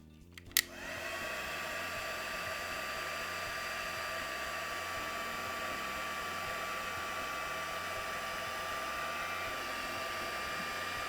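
A heat gun blows continuously on embossing powder over a quilt-pattern stamped background, giving a loud, steady, close whirring roar that begins after a click and runs unbroken to the end.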